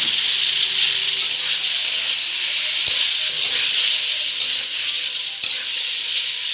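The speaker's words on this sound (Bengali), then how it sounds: "এখন দিয়ে দিচ্ছি সিদ্ধ করা আলুটা।" Boiled potatoes dropped into a hot pan of oil for an aloo dimer jhol egg curry, giving a loud, continuous close-up sizzle and hiss with a few sharp spatula taps against the pan.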